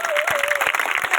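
A church congregation claps together in a dense, steady burst of applause, fairly close, while a faint sustained tone runs underneath.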